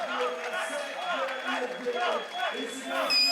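A large arena crowd at the 2015 League of Legends World Championship murmurs and cheers steadily, heard underneath a commentator talking over it.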